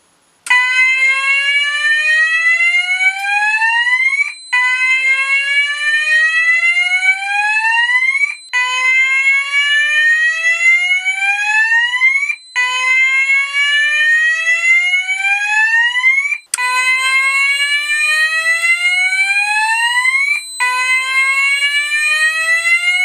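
A Notifier fire alarm system, set off from a BNG-1 pull station, blares a loud repeating sweep tone in regular cycles of about four seconds with brief gaps between them, sounding alone without voices.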